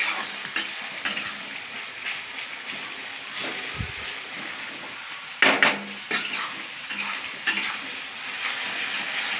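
Wild bharangi (sakroba) greens are sautéed with onion in a generous amount of oil in a pan, giving a close, continuous sizzle broken by sharp spatula scrapes and stirring clatters against the metal.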